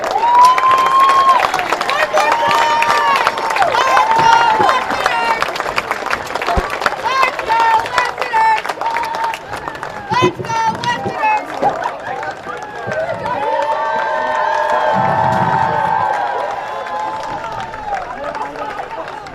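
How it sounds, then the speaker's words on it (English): Crowd at a Newport Gulls versus Danbury Westerners baseball game breaks into loud sustained applause and cheering, clapping swelling and thinning over many seconds while an announcer's amplified voice carries over the stands. "Let's give them all a round of applause."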